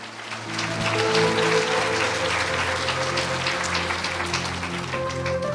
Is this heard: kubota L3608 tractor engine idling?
no